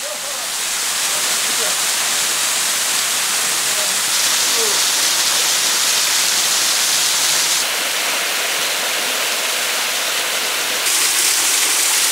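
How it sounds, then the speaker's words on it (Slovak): Sacharna waterfall in Moldova, water falling steadily in a broad unbroken hiss that holds at an even loudness throughout, close and alone with no voices. "Je tu ešte jeden vodopád Sacharna, zašitý niekde v úhle."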